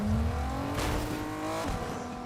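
A car in the video game Fortnite drives and accelerates, its engine revving loud and close with a rising pitch and a brief tyre squeal, heard alone.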